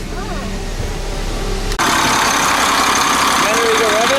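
Cummins 8.3 turbo diesel pusher engine in a 40 ft Class A RV idling, then rising sharply into a steady loud rev after a brief cut, a broad continuous roar with a whistling whine on top; voices are faintly audible early on.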